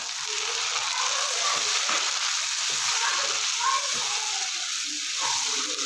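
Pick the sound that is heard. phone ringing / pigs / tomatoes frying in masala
tomatoes frying in masala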